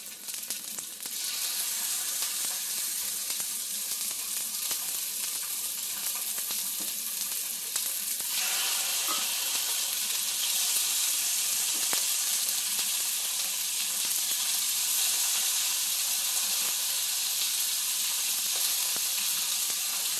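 Chicken pieces frying in a cast iron pan give off a steady, close sizzle that lasts throughout and grows a little brighter and louder partway in, with no talking over it.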